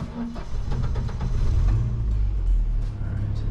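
A manual-transmission car engine starts and settles into a steady low rumble, close and fairly loud, with a short burst of sound at the outset and no clear talk.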